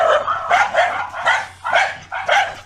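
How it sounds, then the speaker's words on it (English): A dog barks repeatedly, up close and loud, about five sharp barks spaced roughly half a second apart, with no other sounds around them. "Yes, children, a dog barks."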